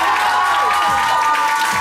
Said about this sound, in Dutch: Een groot applaus voor de tegenstander Alessandro de Ruzza.